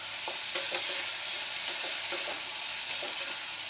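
Spice paste with a pinch of sugar sautéing in a pan for fish head curry, a dense, close sizzle broken by repeated scraping strokes of a spoon stirring the masala.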